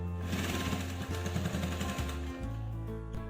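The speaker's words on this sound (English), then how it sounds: "I've inserted the bindings into the mask and I'll just sew it over" A sewing machine stitches bindings onto a fabric face mask in a loud, rapid mechanical chatter with short pauses between bursts, close by.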